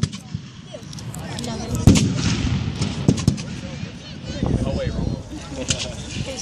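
Gunfire at an American Civil War reenactment battle, a heavy boom and several further shots ringing out over a constant outdoor rumble, with people talking nearby.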